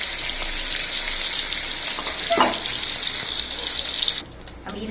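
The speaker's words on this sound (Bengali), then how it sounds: "এভাবে করে ইলিশ মাছটা ভেজে নেব" Hilsa fish pieces sizzle steadily in hot oil, a dense continuous hiss close by that cuts off abruptly near the end.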